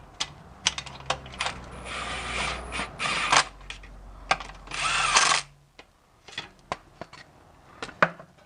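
A power tool spins and drives motor mount bolts on a 2001 Nissan Altima during timing chain work: two sustained whirring bursts close up, surrounded by scattered metallic clicks and clinks of bolts and tools.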